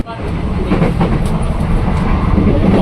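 An electric commuter train (KRL, INKA-built trainset) near Depok Baru station runs with a loud, steady rumble and rattle, as heard from inside the carriage, with some voices in the background.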